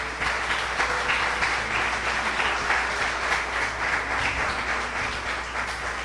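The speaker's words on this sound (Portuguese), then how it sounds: "Vamos aplaudir a palavra do Senhor." Church congregation claps together during a Portuguese-language Mass, a steady mid-distance wash of many hands with a low hum beneath and no talk over it.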